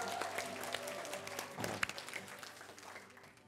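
A standing ovation from an audience at a lecture hall talk, faint, dense applause that swells briefly in the middle and then tapers, heard at a distance.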